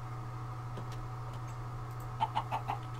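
A chicken in the SevTech Ages Minecraft modpack clucks in four quick, evenly spaced bursts near the end, over a steady low background hum with no talk.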